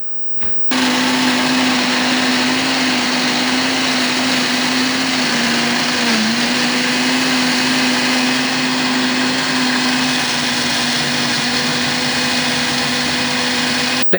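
A Ninja blender loudly blends watermelon, pineapple and banana for homemade baby food, its steady motor whine and churning roar running continuously for the whole stretch with a brief dip near the middle.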